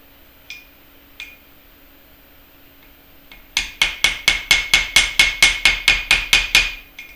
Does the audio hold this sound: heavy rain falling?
no